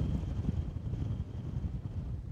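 Wind buffets a handheld camera outdoors at the Fokstumyra nature reserve, a constant low rumbling roar of gusts on the microphone with no other clear sounds.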